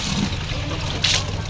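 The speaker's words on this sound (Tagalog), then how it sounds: "Tapos, nagsalan ako ng tubig sa batya." Water pours and trickles into a washbasin, a brief close splashing stream with a voice talking over it.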